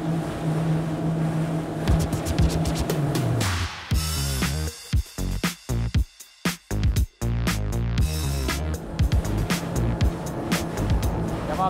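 Twin outboard engines on a Ranieri Cayman 45.0 Cruiser maxi RIB roar loudly as the throttle opens, a rising motor drone with choppy breaks of wind and spray as the hull runs fast over waves.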